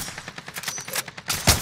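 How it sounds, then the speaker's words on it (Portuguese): Automatic gunfire in the Call of Duty: Modern Warfare video game: rapid, evenly spaced bursts of shots followed by a louder, heavier blast near the end, close and punchy with no talking. "Estão atirando em mim!"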